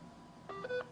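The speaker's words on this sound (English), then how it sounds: "When your phone is connected to the network extender, you'll hear a short two-tone beep when you dial." A phone connected to a network extender gives a short two-tone beep when a call is dialed, two brief electronic tones in quick succession over a speakerphone, clear against faint background hiss.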